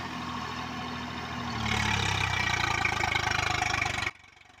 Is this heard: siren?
no